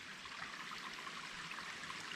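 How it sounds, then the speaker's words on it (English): Myuna Creek in Heathcote National Park runs down from Ripple Rill, a faint, steady burble and trickle of flowing water over rocks, soft and continuous with no voices. "Running water coming down from Ripple Rill."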